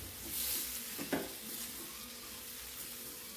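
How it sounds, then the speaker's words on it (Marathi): Brinjal and potato pieces sautéing in hot oil give a soft, steady sizzle with a single clatter of stirring near the one-second mark, then settle into a quiet, continuous frying hiss. "वांग आणि बटाटा कापून घेतलेला ते ह्याच्यामध्ये सोडून द्यायचं आहे आणि हे पण आपल्याला तेलावर छान परतून घ्यायचे बघा"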